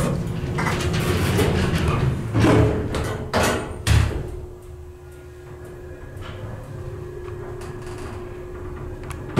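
Doors of a vintage Dover traditional hydraulic elevator at Wainwright Hall, Meredith College, slide and thump roughly, with several clattering knocks and rattles followed by a quieter steady hum.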